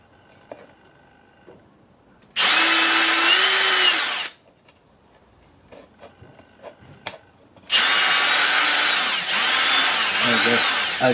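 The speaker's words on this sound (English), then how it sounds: "Using a drill to make a hole" A power drill boring a hole in the plastic case of a Platinum Piano XL storage unit, two loud close whining bursts of about two and three seconds with small handling clicks between them.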